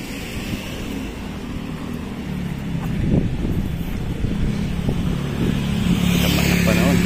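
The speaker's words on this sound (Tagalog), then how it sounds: "Ang lakas ng hangin" Strong wind blows outdoors while walking in Bignay under gloomy weather, a continuous roaring rush that buffets the microphone and swells louder toward the end, with no clear voices.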